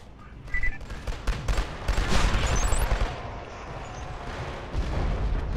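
Heavy gunfire in the Killzone 2 DLC map Southern Hills, with shotgun blasts mixed into dense, overlapping shots and explosive bursts that run continuously and loudly, swelling in the middle and again near the end.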